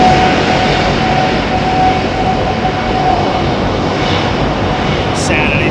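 An airliner in a PC flight simulator rolls toward the runway line, producing a steady, loud jet engine roar with a faint whine running through it and no other sounds.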